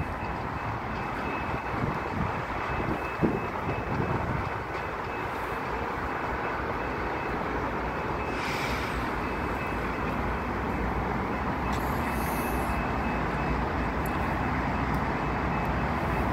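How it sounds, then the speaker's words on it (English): A northbound BNSF GE ES44AC freight locomotive rumbles steadily as it draws nearer, a broad continuous roar with a faint high whine. "it's a northbound Gevo ES44AC."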